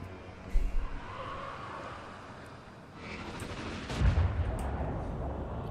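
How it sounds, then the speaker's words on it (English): Warp Lightning Cannon volley in the strategy game Total War Warhammer 2, a crackling burst of blasts and booms over a constant battle din, with a sharp hit early and a heavier rumbling impact later. "Warp Lightning Cannon did miss the first volley."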